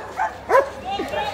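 German shepherd puppy named Raad at an outdoor guard-dog market, giving a few short, high yips and barks close by, with people talking around it.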